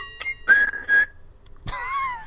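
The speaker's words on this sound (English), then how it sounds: "let's blow the halftime whistle here" A halftime whistle sound effect played from a soundboard gives a few sharp, shrill blasts, with short pauses between them, then a wavering longer tone.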